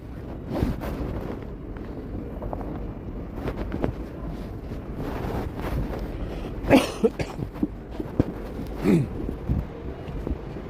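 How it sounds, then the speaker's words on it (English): A few dry coughs come in short bursts against steady wind noise, with scattered handling bumps in between. "I got a dry cough."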